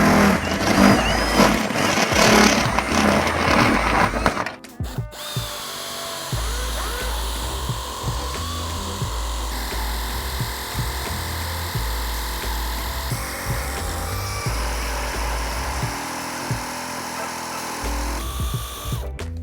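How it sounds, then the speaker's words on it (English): Power nibbler cutting a stainless steel snorkel hole after a step-drill pilot, a loud buzzing mechanical whine that cuts out briefly around five seconds, then runs steadily with rhythmic chopping pulses. "then use our nibbler from there"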